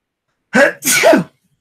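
A single loud, close sneeze in two bursts, a sharp intake followed by a forceful explosive release, then silence.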